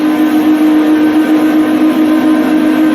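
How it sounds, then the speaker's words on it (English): Machine tool spindle motor spinning at high RPM, a loud steady whine with a strong constant hum, unbroken and close for the whole stretch. "running the spindle at higher RPM so that more current will be taken by the motor"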